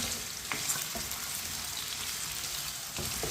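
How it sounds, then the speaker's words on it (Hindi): Cut potato pieces frying in a pan with okra for aloo bhindi, a close, steady sizzle with quick spoon scrapes and knocks as they are stirred in. "कटे हुए आलू डालेंगे, मिक्स कर लेंगे"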